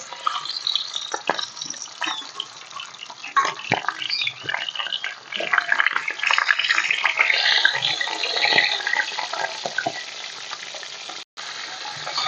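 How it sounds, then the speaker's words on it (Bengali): Fish heads rubbed with salt and turmeric frying in hot oil for a Bengali kata chorchori, a steady loud crackling sizzle with occasional sharper pops running throughout, no talking. "তেলটা হয়ে গেছে, এবার মাছের মাথাগুলোকে আমি ভেজে নেব।"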